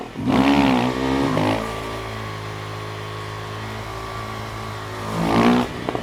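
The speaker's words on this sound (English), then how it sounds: "So it's not enough, also for strong bikes, to just rev the bike and release the clutch." A motorcycle engine revs up loudly, its pitch sweeping upward, then settles into a steady drone before climbing again in a second rev near the end, all close by with no talk.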